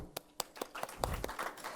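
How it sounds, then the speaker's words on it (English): An audience claps at a workshop, eight or so sharp, evenly spaced hand claps over under two seconds, fairly faint and thin rather than a full applause. "shall we give an applause to him?"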